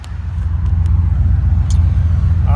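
Chevrolet Cruze running on a Holley fuel injection system while driving on the road, a steady low engine and road rumble throughout, loud and close from inside the car.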